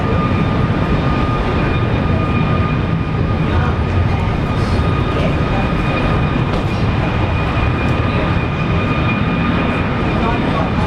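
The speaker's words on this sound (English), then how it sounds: "A classic 737." A classic Boeing 737 at Brisbane Airport gives a loud, continuous jet roar with steady high whining tones throughout, and voices talk intermittently over it.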